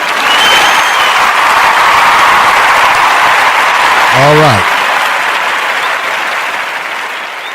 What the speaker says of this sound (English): Let me give you a clap for being here